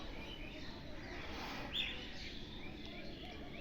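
A faint chorus of parrots and crows calls from village trees, with scattered chirps and one brief, sharper squawk standing out against a constant hiss of outdoor background noise.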